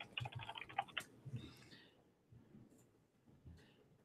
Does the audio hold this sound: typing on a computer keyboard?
yes